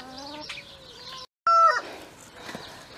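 Chickens cluck and call close by while pecking through a fresh pile of leaves in a food forest, with a rooster crowing loudly after a brief silence, then softer clucks continuing.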